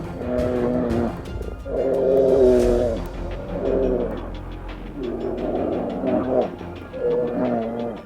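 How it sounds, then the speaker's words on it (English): Fierce Arctic predators clash over territory, food or mates on snow and ice, giving loud, deep, repeated roars in several sustained bursts with short gaps between them. "The tranquil silence is torn apart by roars echoing across the snow and"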